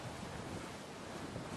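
Sea waves slap against a racing sailboat off Sardinia in strong wind of about 34 knots, a dense, steady roar of surf and wind buffeting the microphone throughout.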